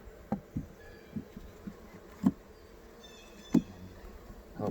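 Honey bees hum steadily around a hive, with a few individual insects buzzing close past the microphone in brief loud swells.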